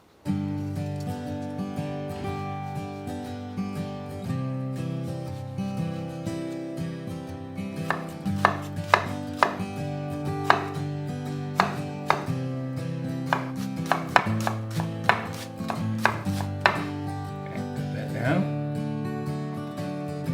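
Red onion chopped with a knife on a cutting board while cooking asparagus and pork chops: rapid, close knife taps come in bursts over background music, with a voice talking intermittently.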